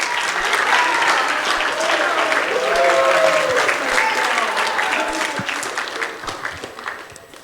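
A school audience at a high school end-of-year awards ceremony breaks into steady, dense clapping that fades toward the end, with some voices mixed in under the applause.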